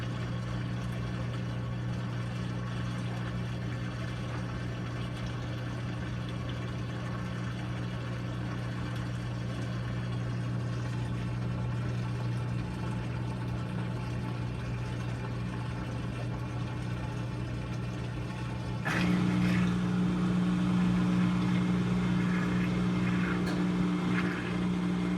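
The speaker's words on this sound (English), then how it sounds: "This washer spins, I think, at about 740 RPM. So as you can see, it gets going pretty good." A Maytag commercial top-load washer ramps into its spin cycle, about 740 RPM, giving a steady low motor hum that holds for a long stretch before stepping up to a louder, higher whir.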